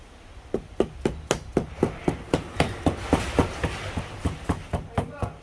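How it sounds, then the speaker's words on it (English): A plastic hammer taps lightly again and again on the edges of a seat cover, close by, in a quick, even rhythm of about twenty sharp knocks. "you can tap down the edges with a plastic hammer"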